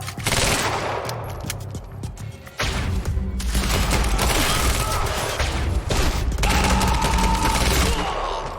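Intense gunfire erupts in the video game Quantum Break, a loud, dense barrage of rapid shots and bursts with a brief break before the firing resumes.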